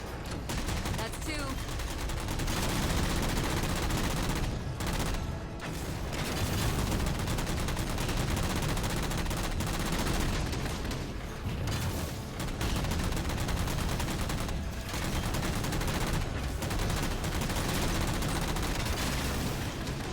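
Gunfire in the Halo video game, dense bursts of automatic weapon fire and shots that rattle almost continuously, loud and busy, with brief gaps between volleys.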